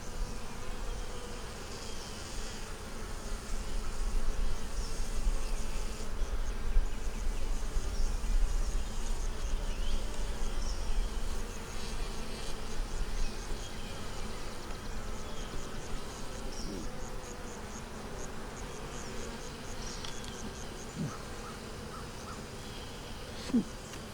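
Honeybees buzz around an open hive while a beekeeper works the boxes outdoors, a continuous close droning hum with scattered faint knocks and shuffles throughout.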